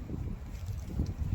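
Wind gusts buffet the microphone outdoors just after church, a low rumbling roar that swells and eases across the short stretch with no talking.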